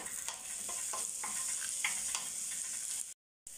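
Onions, cashews, ginger and garlic fry and sizzle in a pan with steady stirring scrapes, a continuous close hiss that cuts out briefly near the end.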